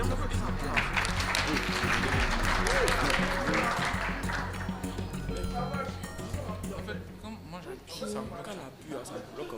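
Audience applause breaks out for a contestant at a French-language school quiz match between two Ivorian schools, a sustained burst of clapping that fades as a presenter's voice carries on over it.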